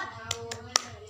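Hands clap during a 'tepuk semangat' classroom cheer, a few sharp claps spaced unevenly over a faint murmuring background.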